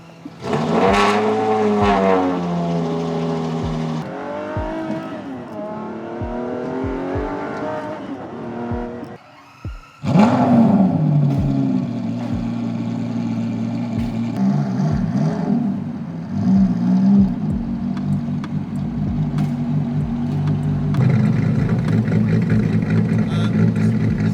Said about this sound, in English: So it has a unique sound, being that it's a Cosworth tuned V12.